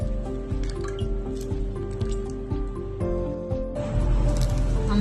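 Oil is poured into a bowl of herbal ingredients for a homemade hair oil, with a steady liquid trickle and wet dripping over a persistent low background hum.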